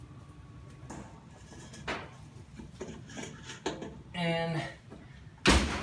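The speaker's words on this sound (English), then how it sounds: "just put it in the oven, in the slightly warm oven." A kitchen oven door creaks open and then shuts with a loud clunk at the end, slightly warm oven receiving pizza dough under plastic wrap, with a person talking over the handling sounds.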